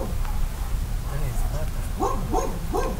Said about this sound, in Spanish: Hay dos perros, hay amigos ahí.